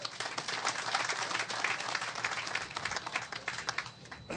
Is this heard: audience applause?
yes